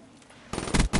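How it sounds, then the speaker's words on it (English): A pulse rifle in a video game fires a quick three-shot burst, loud sharp cracks landing close together after a short quiet lead-in. "Yeah, it is a pulse rifle."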